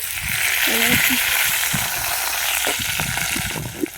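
Whole cardamom, cloves, cinnamon and torn bay leaf hit hot oil in a pan, giving a continuous hissing sizzle under a voice talking throughout.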